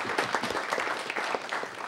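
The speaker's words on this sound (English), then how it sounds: "All right, give him a round of applause." People at a city council meeting give a round of applause, a modest room of clapping with distinct individual claps, fairly quiet and steady for a couple of seconds.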